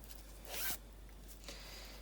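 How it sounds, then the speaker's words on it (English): An invisible zip being drawn open along fabric gives a short, close, rasping zipper run lasting about a quarter second, followed by quiet handling. "have your zip open"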